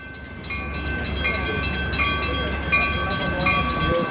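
A train rolls past close by with a rumbling, rattling roar, and repeated high squeals ring out as the cars clatter along the track.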